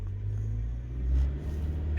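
A car pulls away in first gear, its engine a low, steady rumble that swells briefly as it moves off, fairly quiet and close.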